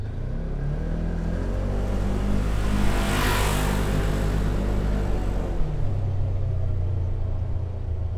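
A Polaris General side-by-side in high range at full throttle, a loud, close engine roar that climbs steadily in pitch, peaks, then drops back as it eases off.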